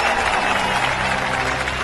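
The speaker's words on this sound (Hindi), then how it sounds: "ताली बजाओ ताली।" Applause fills a film scene as a crowd claps steadily and loudly, a continuous dense patter held at even strength throughout.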